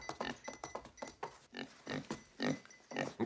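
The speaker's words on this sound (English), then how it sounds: "A pig." Pig grunting and oinking in a movie scene, a rapid series of short snorting bursts followed by several longer, louder grunts, close and clear with no talk over it.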